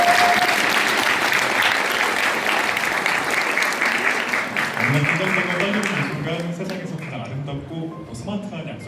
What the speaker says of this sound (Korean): 여러분 다시 한번 축복의 박수 부탁드립니다.